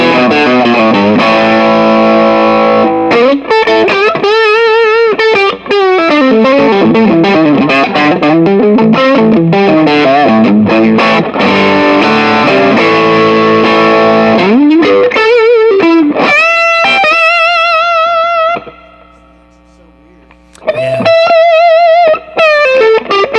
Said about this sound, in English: God, that's a lot of reverb.